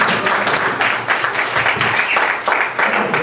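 A comedy show crowd applauds comedian Brian, a steady, loud wash of clapping that holds throughout with slight swells and dips.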